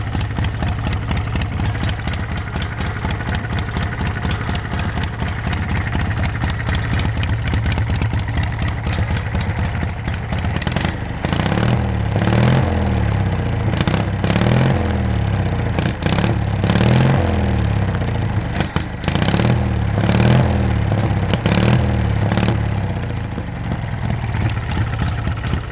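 Homemade tractor engine idling steadily with a light mechanical rattle, close and continuous, with a rhythmic pulsing throb in the second half as the engine load shifts; no talk over it.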